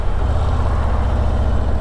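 A 2023 Harley-Davidson Street Glide ST's bigger engine rumbles with a deep, steady tone while riding, loud and continuous with a low-frequency throb and no talking.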